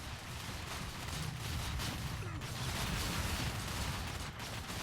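Dense, crackling musket volleys from a Total War Warhammer 2 battle, a continuous rattle of overlapping shots with low rumbling, fairly distant and steady throughout.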